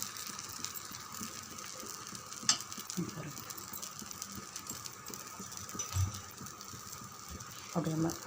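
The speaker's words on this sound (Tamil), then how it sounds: "கல் நல்லா சூடு எடுத்து நம்ம மாவு எடுத்து அப்படியே சேர்த்துடலாம்." Wheat rava dosa batter spreads onto a hot griddle with a quiet, steady sizzle and occasional soft scraping taps, while a person talks over it.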